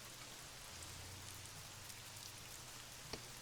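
Steady rain falls on a surface as a continuous, even patter, fairly faint, with a low hum running underneath and one slightly sharper drop near the end.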